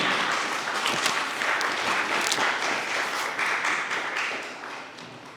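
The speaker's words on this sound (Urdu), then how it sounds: "آپ کی زوردار تالیوں میں۔" Audience at a literary and educational assembly in Lahore claps loudly and steadily for several seconds, a dense wash of applause that tapers slightly toward the end.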